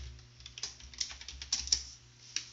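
Someone types a password on a computer keyboard while setting up a LAMP stack on Ubuntu or Mint, a quick string of soft, close key clicks in an irregular rhythm with no voices.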